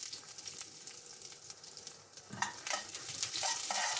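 Tempering of garlic, dry red chilies and curry leaves in hot oil for a Karnataka-style bassaru, a soft steady sizzle with sharper crackles and spatters breaking in during the second half.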